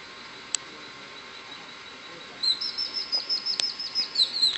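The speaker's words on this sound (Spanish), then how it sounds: "Los pajaritos, ¿cómo se escuchan?" After a quiet moment with a couple of faint clicks, small birds at Bacalar near Chetumal break into a run of rapid, high chirps that continue steadily to the end.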